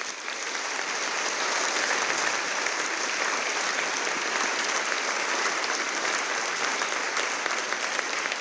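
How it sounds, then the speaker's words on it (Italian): Sustained, dense audience applause at an event in Trieste, steady and fairly loud from start to finish with no talk over it. "A tutti questi ospiti rivolgiamo un sentito applauso."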